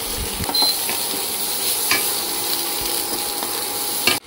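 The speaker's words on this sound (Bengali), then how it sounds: "রসুনটা ভাজা ভাজা হয়ে গেছে, পেঁয়াজটা দিয়ে দিচ্ছি এবার।" Onion tipped into hot oil with crisp-fried garlic, a close continuous sizzle with spatula stirring scrapes, cutting off abruptly at the end.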